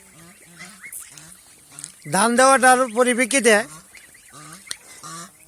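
Geese and goslings on a goose farm, fed scattered dry paddy, break into a loud burst of close honking mid-clip, with someone talking before and after.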